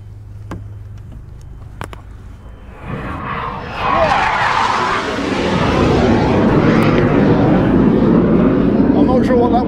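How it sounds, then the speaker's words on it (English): A military jet flying low down a river roars in fast and loud, heard from aboard a Princess V42 yacht, building from a distant rumble to a sustained, close roar that drowns everything else. "the Air Force occasionally like to have a little whiz down the river"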